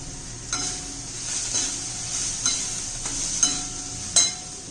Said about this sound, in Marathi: धना पावडर घालू व्यवस्थित परतून घेऊ कोथिंबीर घालू